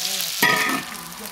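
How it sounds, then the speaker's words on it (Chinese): Pork belly fat stir-fried in a wok with ginger and garlic, a steady sizzle that jumps louder as the aromatics hit the hot fat, then settles into continuous frying crackle with scraping stirs. "加点姜和蒜进去啊，拿这样一起炒会更香"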